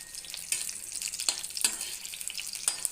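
Slit green chillies fry in a pan for beetroot chutney, a continuous bright sizzle broken by a few sharp scrapes as they are stirred, up close with no voices.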